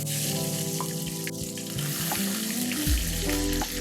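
Onion masala hits hot mustard oil with a steady, bright sizzle, punctuated by a few stirring clinks and scrapes, close and fairly quiet overall.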